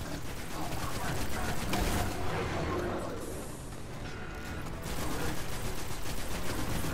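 Rapid gunfire from the video game Destiny, dense bursts of shots and mechanical clatter that dip briefly in the middle before resuming, with a voice talking over it.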